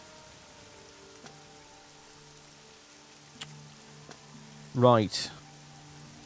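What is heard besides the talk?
rain falling in the video game Oblivion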